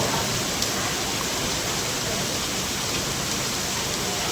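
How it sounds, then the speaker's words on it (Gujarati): Steady, heavy rainfall pours down in a dense, unbroken hiss, with no voices. "ફૂલ વરસાદ આવે છે."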